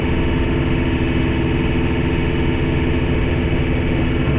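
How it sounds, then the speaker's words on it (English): A John Deere 4052R tractor engine runs loud and close during snow removal, a steady low rumble with constant vibration and no clear rise or fall in pitch. "When you hear the tractor rev up after we get done doing it"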